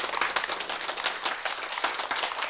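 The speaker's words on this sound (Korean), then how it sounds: "박수!" A short burst of clapping from a lecture audience, fairly faint and brisk, with irregular claps blending into light applause throughout.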